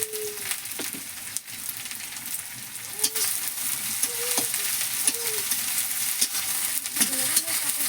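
Chilli paste spits and sizzles in hot oil as jackfruit curry is cooked, a dense continuous fry with occasional stirring scrapes and brief bird-like chirps in the background.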